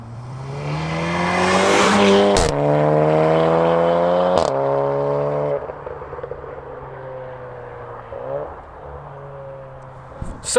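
A Volkswagen Golf R with an Akrapovic exhaust or a straight-piped BMW Z4 accelerates hard at full throttle, engine pitch climbing through several gear shifts, loud and close, then fading as it pulls away.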